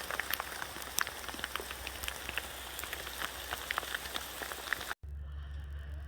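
Hail patters steadily across an open field in the Forest of Dean during a British summer, a dense crackle of scattered ice hits that breaks off sharply near the end into a brief low rumble.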